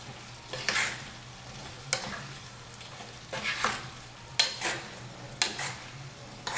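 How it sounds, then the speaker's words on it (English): Chickpea curry in a pot with canned chickpeas just added is stirred in several scraping, swishing strokes over a low steady hum and a soft background sizzle. "And give it a stir."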